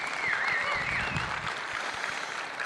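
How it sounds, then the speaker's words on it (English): Sustained crowd applause fills a conference hall at a Gun Owners of America 50th-anniversary gathering, a dense, steady wash of many hands clapping throughout, with a faint whistle rising above it early on. "everybody give me a round of applause for Gun Owners of America"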